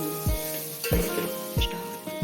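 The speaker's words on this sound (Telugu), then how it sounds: "ఒక్క నిమిషం ఫ్రై చేద్దాం." Meal maker (soy chunks) frying in a pan with salt, chilli powder, turmeric and garam masala, a steady close sizzle broken by a few sharp stirring scrapes.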